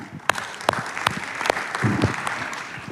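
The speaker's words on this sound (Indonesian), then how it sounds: "Saya kasih tepuk tangan" Church congregation applauding during a sermon, scattered sharp hand claps over a soft murmur of clapping that builds slightly, with a low voice briefly under it.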